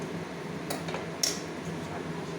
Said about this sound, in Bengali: কিছুক্ষণ নাড়াচাড়া করতে হবে এভাবে